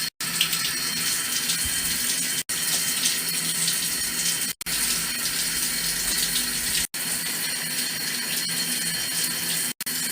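Steady running water pours over a pet parrot being showered, a continuous broadband splash with a few brief dropouts, close and loud with no talking.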